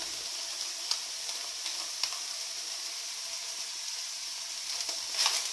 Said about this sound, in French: Et on fait revenir, donc pour que le mélange soit bien diffusé et pour que on ait bien le goût des oignons avec la viande